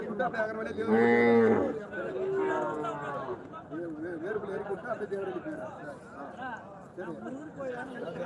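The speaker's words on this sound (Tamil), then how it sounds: "வளர்ப்பு கண்ணு பசு மாடுகள் ஜோடி" Cattle low loudly at the Krishnagiri cattle market, one long strong moo near the start followed by a second call, with steady crowd chatter and talk running underneath throughout.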